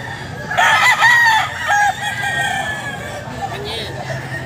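A Boston Roundhead rooster crows loudly and close by in a pet market, with a drawn-out call in the first two seconds over a steady background murmur of the market.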